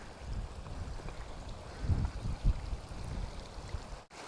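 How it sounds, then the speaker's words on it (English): A mountain stream in Rocky Mountain National Park tumbles down rocks, giving a steady rushing wash with some louder low surges, heard close without speech. "We've got the water coming down the rocks."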